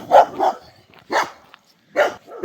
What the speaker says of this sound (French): Et ça, c'est les chiens qui gardent les moutons